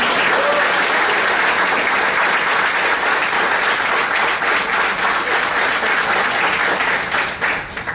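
A large audience at a Saturday morning area contest applauds steadily and loudly for the full stretch, a dense wash of clapping that tapers slightly at the end.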